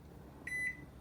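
An oven's electronic timer gives two short, high beeps close by while being set for baking yeast rolls in a quiet kitchen.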